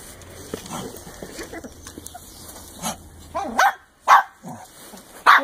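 A dog lets out a few short, sharp barks at a new puppy, close by, separated by quiet gaps, with a faint low hum at the start and no one speaking.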